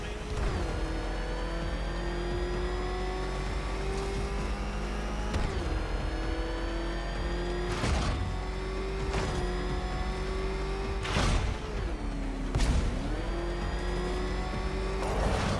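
The Batmobile's engine in Batman: Arkham Knight, a steady, loud motor drone with repeated sharp surges and shifts in pitch, alongside the rumble of the game's driving effects.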